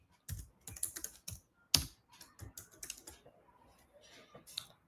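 Computer keyboard typed on while writing JavaScript code, with bursts of close, crisp key clicks in an irregular rhythm and short pauses between runs of keystrokes, and no talking.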